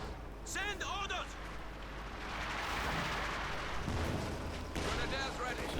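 A grenade blast and gunfire from Company of Heroes 2 make a heavy, rolling rumble through the middle, while in-game soldier voices shout callouts before and after.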